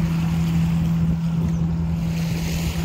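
A Discovery jet boat powered by a Mercury 150 outboard with a jet attachment runs on the water, a steady loud motor hum with wind and water rushing around it throughout.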